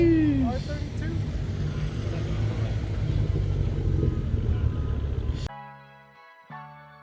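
A Nissan R32 GTR drives past at a cars and coffee meet, its engine rising as it approaches and then fading, with people talking nearby before the sound cuts off.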